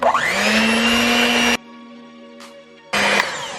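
An electric mixer beats sugar, eggs and vanilla extract for a giant chocolate sea salt cookie, a loud whirring motor that stops abruptly, leaving a faint hum, then starts up again near the end.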